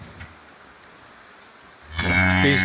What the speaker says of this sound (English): That was one of Ty's cows.